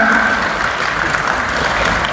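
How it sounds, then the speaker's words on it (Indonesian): Applause from a seminar audience at a National Teachers' Month event: a dense, steady wash of clapping from a crowd, sustained and fairly loud throughout. "Kita beri tepuk tangan yang meriah."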